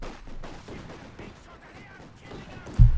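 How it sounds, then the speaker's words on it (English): Partisan anti-tank rifles (P2S-41) firing in the Company of Heroes 2 strategy game: a dense haze of battle noise under a commentator's voice, then a sharp, loud, close shot near the end. "Partisans are pummeling southwards here with anti-tank rifles, the P2S-41"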